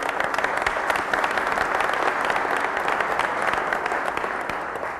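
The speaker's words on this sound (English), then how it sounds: "so we can give you a round of applause" Audience applause at a public event on a state infrastructure plan, dense steady clapping from a large crowd that holds throughout and eases slightly at the end.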